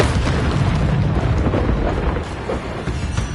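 Confringo blasting spell going off in the Hogwarts video game, a loud, dense, rumbling blast that fills the whole clip with sustained booming energy and no voices.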